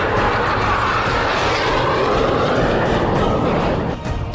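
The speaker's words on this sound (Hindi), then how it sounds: "रूस ने अपने सबसे बड़े न्यूक्लियर बॉम्बर Tu-160 को बेरेंट सागर के ऊपर उड़ाया है" A Russian Tu-160 nuclear bomber flies over the Barents Sea with a loud, steady jet roar that fills the whole stretch, easing slightly near the end.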